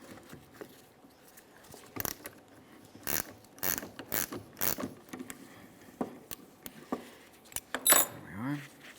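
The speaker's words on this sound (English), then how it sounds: "We'll get our 16mm wrench on there, 1/4-inch wrench, and we can start turning this counterclockwise" A 16mm ratchet wrench on a 1/4-inch drive loosening the upper mounting nut of a rear shock absorber on a 2017-2024 GMC Acadia, irregular close metallic clicks and clacks as it is worked counterclockwise, with a brief metal scrape near the end.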